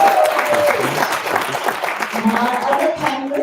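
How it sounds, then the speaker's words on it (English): Applause from a live youth leadership event audience, a fairly loud, steady spread of clapping with some talk mixed in underneath as the crowd welcomes a panelist. "Can we give a hand of applause to Delia?"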